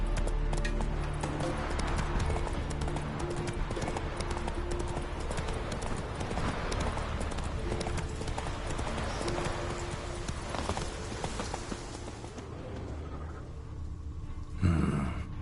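A horse galloping in the video game The Witcher 3 produces steady, rapid clip-clop hoofbeats close up for most of the span, under a dense game soundscape, before slowing near the end.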